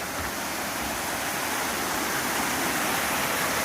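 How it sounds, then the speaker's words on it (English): Water rushing steadily over rocks at a creek water feature near Jake's Creek and Little River in the Smokies, a close, loud, unbroken hiss with no voices. "A very nice water feature."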